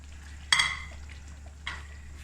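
A spoon clanks twice against a pot while boiled egg pieces are mixed into curry gravy, two distinct metallic scrapes about a second apart over a low steady hum.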